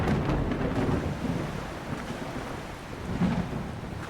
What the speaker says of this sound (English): Can you hear me over the storm chat?